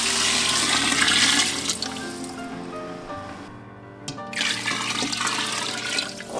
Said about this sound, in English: now I'm going to add our water in